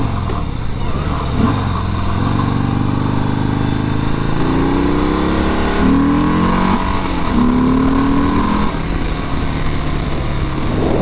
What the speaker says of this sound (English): this bike has the 107, and it's not lacking for power